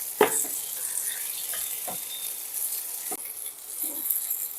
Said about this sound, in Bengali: সবগুলোকে একসঙ্গে একটু ভেজে নিতে হবে